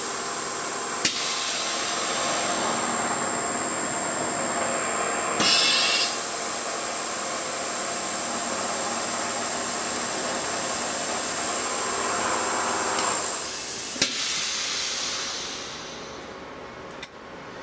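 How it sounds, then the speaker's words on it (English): An Acra CNC knee mill spindle running a center drill whirs steadily with a constant hum, broken by a few sharp metallic clicks and knocks, winding down near the end. "now fire up the center drill, bring up the RPM for that guy"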